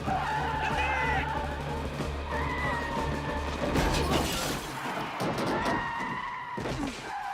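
Tyres skid and screech as a car brakes toward a person in a film scene, a harsh rising squeal over engine rumble and mechanical clatter, with brief voices mixed in.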